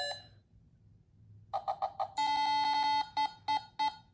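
A Maximo handheld electronic casino craps game plays electronic sounds during a dice roll. A few quick beeps lead into a longer sustained tone, then a string of short, loud, clipped blips, all alone and close.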